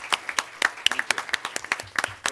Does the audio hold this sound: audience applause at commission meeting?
yes